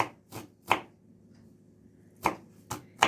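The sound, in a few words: chopping purslane with a knife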